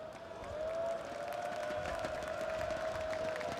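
Loud, steady crowd noise from an esports arena audience at the PGL Antwerp Major Counter-Strike quarter-final, ENCE versus CPH Flames, a dense continuous roar with cheering carrying on throughout.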